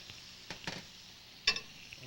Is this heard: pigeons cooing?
no